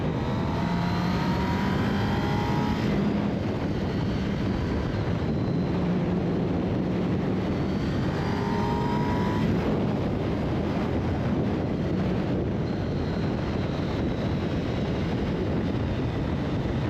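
A Kawasaki ZX10R sportbike pulls hard in fifth gear on the road, its engine note rising steadily beneath heavy wind rush, with a shift-like break midway and the pull continuing, loud and close throughout.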